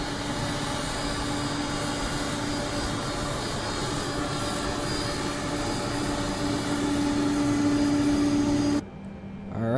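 Steady roar and high whine of a Boeing 767-300ER jet engine idling after start in Microsoft Flight Simulator 2020, continuous and loud with a rising tone, cutting off abruptly near the end; no talking.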